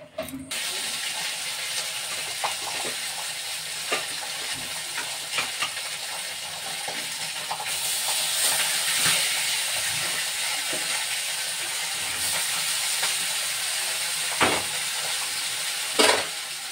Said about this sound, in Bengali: এবার আমি মাছটা ভেজে নিই